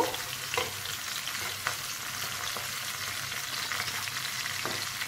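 Garlic, cumin and chilies frying in hot oil for a dal tadka, a steady close sizzle with a few sharp crackles and pops over a continuous frying hiss.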